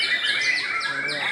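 Songbird at a bird-singing contest, a nine-month-old bird from Karawang, giving continuous bright chirps and warbling trills, close and steady, with faint talk in the background.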